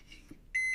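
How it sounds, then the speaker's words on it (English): One electronic beep, a clear steady tone lasting about a quarter second, following a brief soft tap, heard alone without talk. "Oh, that's a beep. That's a beep,"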